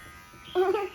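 An Enchen Boost hair clipper switches on partway through and gives a short, fairly quiet buzzing hum that lasts about half a second.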